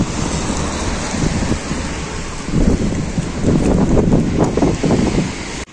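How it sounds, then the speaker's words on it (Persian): Heavy rain pours down hard in the Turkmen Sahara, a loud, dense, continuous roar, likely drumming on a surface close by, with gusty wind noise on the microphone and no speech. "خیلی بارون داره شدید میشه"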